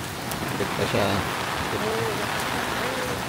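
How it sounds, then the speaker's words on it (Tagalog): Rain falls steadily around a hotel pool area, a continuous hiss of drops on wet surfaces with people talking nearby over it. "Naulan pala."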